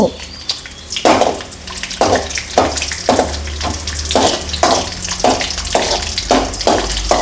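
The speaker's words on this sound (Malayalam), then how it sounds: "ഈ പച്ചമുളക് എണ്ണ കിടന്നൊന്ന് മൂക്കട്ടെ" Slit green chillies frying in hot oil give a steady, close sizzle with repeated stirring scrapes at a regular rhythm, and a voice speaks faintly underneath.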